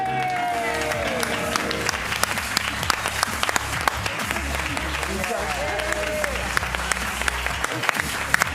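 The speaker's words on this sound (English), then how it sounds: "round of applause one more time for our full cast here" A live show audience applauding the cast steadily with dense, continuous clapping throughout, and a voice briefly audible near the start.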